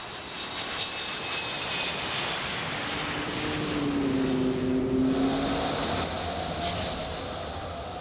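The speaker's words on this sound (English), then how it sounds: "Another aeroplane." Airliner flying overhead on a route to Oslo, Norway, a steady engine roar with a low droning tone that swells in the middle and slowly eases off, heard alone outdoors.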